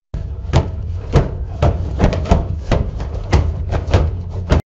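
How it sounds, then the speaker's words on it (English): AI-generated rapid, heavy slaps of meat against a tabletop repeat steadily, a dense run of loud flat impacts with brief gaps, close and without any voices. "sounds more like someone slapping meat on a table repeatedly over and over again"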